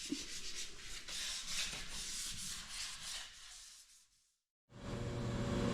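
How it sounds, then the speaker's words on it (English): Car parts for a 1932 roadster hot rod build being sanded before paint: steady, close abrasive rubbing strokes that fade out briefly near the end, then resume. "So we're going to get these parts all sanded up and get them ready for paint."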